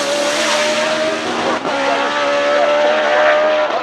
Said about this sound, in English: It's a Formula One engine.